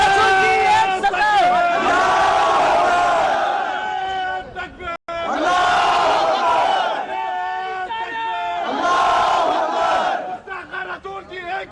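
A large crowd chants Sar Tan Se Juda slogans in Hyderabad, loud rhythmic shouted bursts rising and falling in three waves, with brief drops between chants and a dense babble of voices underneath.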